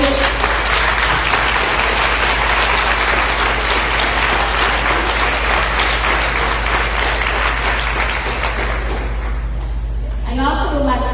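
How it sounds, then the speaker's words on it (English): An audience at a speaking contest applauds the coaches with loud, dense, sustained clapping that fills the room and stays steady for about ten seconds before thinning out. "let's give them a round of applause"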